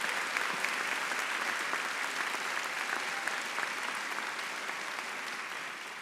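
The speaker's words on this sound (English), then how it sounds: "Please applaud them." Applause from a college ceremony audience honoring the Spelman faculty, a dense, steady clapping that fills the room and carries on evenly without a break before easing slightly near the end.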